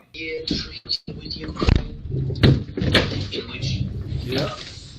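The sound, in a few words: interior door of a house closing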